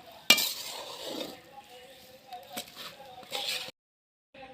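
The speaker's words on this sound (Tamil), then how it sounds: "திராட்சை முந்திரி எல்லாம் சேர்த்து நல்லா மிக்ஸ் பண்ணி விட்டுக்கலாம்" Fried raisins and cashews are stirred into a laddu mixture in a metal vessel: a sharp clink opens, then scraping, rattling stirring strokes continue before a brief silence and a final scrape.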